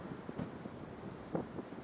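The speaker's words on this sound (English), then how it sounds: "It's all southerly, so it's wind coming right off Antarctica." Cold southerly wind buffets a rocky shore at twilight in Wellington, New Zealand, a faint, steady rush with soft gusts and a small bump partway through, alone with no voices.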